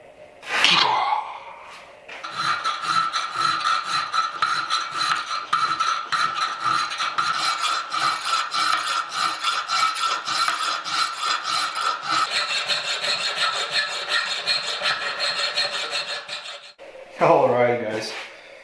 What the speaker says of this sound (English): File out the remaining of this metal so we get our 180 degrees.